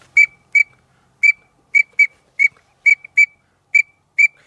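A series of short, high, clear whistle notes from a teal duck call whistle, about ten in an uneven rhythm, sounding close and loud against silence.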